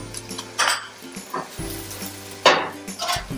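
Onion hits a hot pan and fries with a continuous sizzle, broken by bursts of stirring and utensil scrapes against the pan, close and fairly loud.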